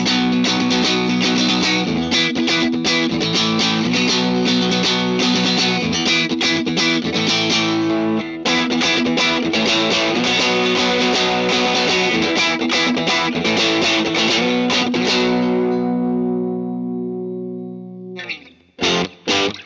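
A Squier Classic Vibe 60s Telecaster electric guitar plays a loud, continuous riff through effects and distortion. Driving strummed chords fill the passage before it thins out and ends with a few sharp final hits.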